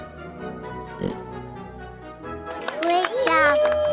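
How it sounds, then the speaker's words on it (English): Pig oinking in a children's animal guessing game, a brief grunt early on followed by playful musical tones and effects over a light background melody. "You've guessed the pig right"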